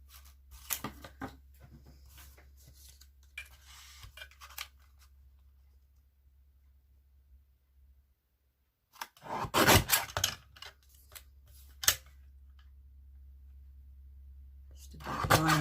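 A small paper trimmer slices cardstock for a stamped greeting card, producing close, dry sliding scrapes in two short bursts separated by a quiet pause.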